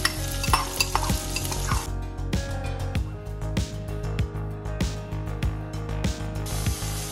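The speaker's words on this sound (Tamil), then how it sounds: "இப்போ நம்ம அதில் நல்ல பொடியாக நறுக்கி வச்ச வெங்காயத்தை போட்டுருவோம்." Onions sizzle and crackle in a hot pan, with repeated scraping and stirring of a spatula against metal at a steady pace.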